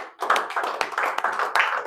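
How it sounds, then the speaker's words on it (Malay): A small group in a classroom session claps, individual sharp hand claps audible within a loose, uneven round that starts abruptly and stays close and moderately loud. "tepuk tangan semua."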